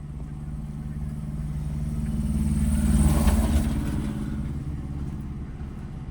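A car with a manual gearbox idles, then its engine note swells and steadies as the clutch is let out and it creeps forward slowly, before easing back again.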